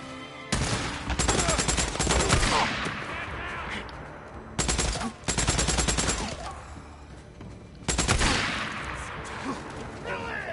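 Enemy sniper gunfire and heavy shooting in the video game Days Gone: three loud bursts of rapid shots, each followed by a decaying tail and scattered rumble, with a voice speaking faintly underneath.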